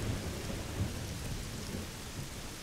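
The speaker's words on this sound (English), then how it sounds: "The rain does look fabulous." Steady rain pours in a stormy scene from the video game Mystery Case Files: Key to Ravenhearst, with low thunder rumbling continuously underneath and a slightly stronger roll near the start; no voices.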